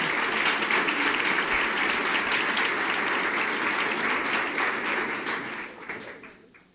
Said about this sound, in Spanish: Me pone un aplauso al Señor.